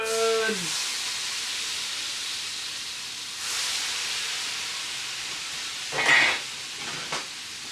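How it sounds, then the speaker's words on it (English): Gluten-free ravioli sautéing in butter in a pan, a steady hissing sizzle close by with a brief louder surge near the end and a short tonal sound at the start, no speech. "Just so that I get both sides of my noodle sauteed"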